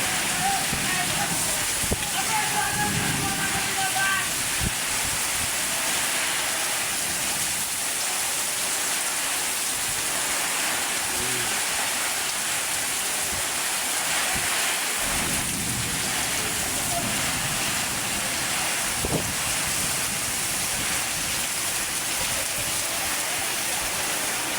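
A heavy downpour pours steadily outdoors as thunder rumbles and cracks now and then, the drumming rain loud and close throughout.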